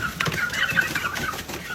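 Andijan chickens cluck together at close range, a busy overlapping chatter of short calls that runs steadily without pause.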